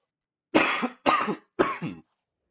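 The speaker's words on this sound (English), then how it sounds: "Sorry again for the coughing." Three harsh coughs from a man who is still a little sick, evenly spaced about half a second apart, close and loud against silence.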